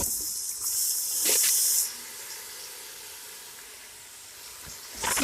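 Marinated chicken pieces for biryani hitting a hot pan, a bright hissing sizzle that flares for about two seconds, then settles to a quieter steady crackle before rising again at the end; no talk.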